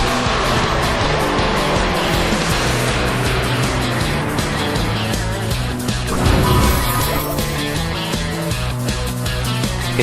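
Car engines roar and whine through a Free Realms race, with tire squeals, skids and a loud crash-like burst midway, all dense and continuous.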